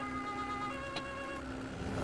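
An ambulance siren in the emergency-services video game Emergency 2012, during a landslide scenario in Switzerland, wails faintly and steadily, a quiet tonal whine sitting under low background game noise.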